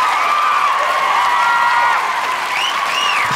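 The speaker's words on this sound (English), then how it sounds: "Let me get a hand clap" A crowd applauds and cheers at a hip-hop cypher performance. The clapping is dense and steady, with a few whistles and shouts near the end, and there is no talk over it.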